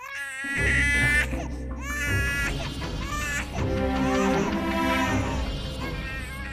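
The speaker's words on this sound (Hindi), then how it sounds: "बच्चे के रोने की आवाज तो आ रही थी ना।" A baby cries loudly and close by in an empty room, repeated wailing sobs with brief whimpering breaks between them, continuing throughout with no talking over it.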